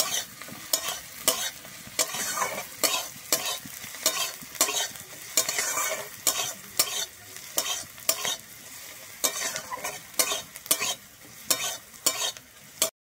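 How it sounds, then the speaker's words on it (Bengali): Chopped ginger and garlic frying in a pan for a flat bean curry, with steady sizzling broken by regular, close scraping strokes of a spatula stirring, about twenty strokes in a brisk rhythm and no talking. "আমি আদা রসুনটা দিয়ে কিন্তু ভালোভাবে আবারও ভেজে নেব"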